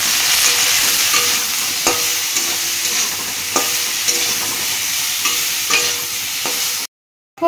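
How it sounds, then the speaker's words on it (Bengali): Vegetables, soybean chunks, potato and pointed gourd, frying in a pan with a little salt and turmeric, a steady close sizzle broken by scraping stirs every second or so, without talk, ending abruptly in silence. "একটুখানি লবণ দিয়ে দিচ্ছি আর একটু হলুদ দিয়ে দিচ্ছি, দিয়ে আবারও খুব ভালো করে ভেজে নেব"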